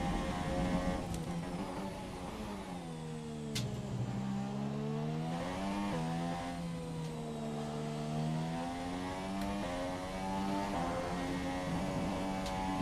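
Formula 1 race car engine in F1 2017, a steady droning whine that rises and falls in pitch as it revs and shifts, moderately quiet and continuous.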